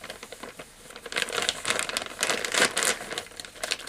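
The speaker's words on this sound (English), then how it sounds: "I'm just using old recycled plastic bags right now." Old recycled plastic bags being handled, giving close, irregular crinkling and crackling that rises and falls in bursts with no talking.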